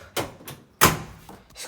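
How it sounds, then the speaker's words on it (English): A door is pushed shut in a home laundry area, giving two close, solid thuds a fraction of a second apart with a softer knock trailing after, and no voices. "close the door so I don't hear anything"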